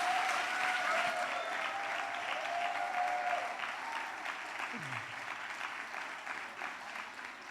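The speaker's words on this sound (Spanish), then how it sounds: "Le damos un aplauso al Señor por Linda." Congregation at a European church congress gives a steady round of applause for a church member, filling the room at moderate volume with a faint sustained tone and a few murmuring voices beneath.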